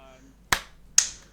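Two sharp hand claps about half a second apart mark a sync point before a tech talk-show recording, each a crisp, close, loud snap fading quickly into a quiet room with no talking over them.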